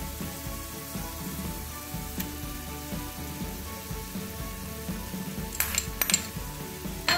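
Tomatoes and paneer land in a pan of palak paneer bhurji and start cooking, giving a steady low sizzle with scattered clinks of a utensil against the pan, and a few sharper metallic taps near the end.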